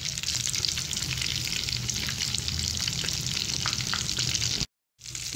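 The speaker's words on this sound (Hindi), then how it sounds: "ताकि ये दूसरी साइड से भी फ्राई हो जाए।" Cheese potato cutlets frying in a pan give a steady crackling sizzle with some light stirring, continuous until a brief dropout near the end.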